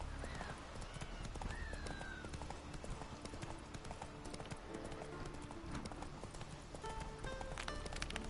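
Hoofbeats of the horse Roach in The Witcher video game, a steady, faint clip-clop cantering rhythm that continues throughout.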